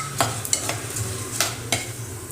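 Whole spices, cinnamon, cloves, cardamom and fennel, frying in hot oil for mushroom biryani, giving a soft even sizzle close by, with a few quick scrapes and taps of a spoon in the pan.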